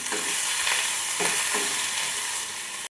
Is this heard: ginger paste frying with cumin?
yes